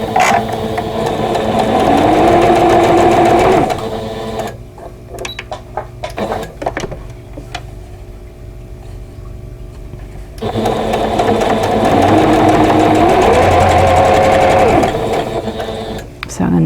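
A sewing machine chain piecing quilt block pieces runs in two long steady bursts of fast whirring stitching, separated by a quieter pause filled with soft handling clicks; talk is present.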